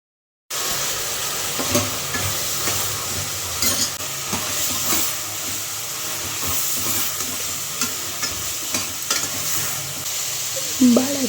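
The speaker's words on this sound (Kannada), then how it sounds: "ಕಡಲೆಕಾಳು ಒಗ್ಗರಣೆ ಹಾಕಿದ್ದೆ, ಅದಕ್ಕೆ ಬಾಳೆಕಾಯಿ ಹಾಕ್ತಾಯಿದ್ದೀನಿ" Raw banana pieces and chickpeas sizzle and fry steadily in a hot tempering as a spoon stirs and scrapes the pan, with occasional clinks, all close and continuous with no talking.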